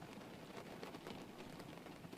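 Soft, steady rain falls after a thunderstorm, a faint, even hiss of drops with light pattering texture, continuous and distant-sounding with no voices.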